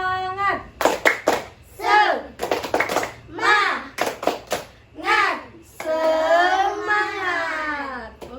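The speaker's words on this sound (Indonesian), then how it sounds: "1, 2, 3. Tepuk semangat." Schoolchildren in a classroom perform a rhythmic spirit clap, sharp clustered hand claps in a set pattern alternating with children chanting in unison, ending in a long group shout.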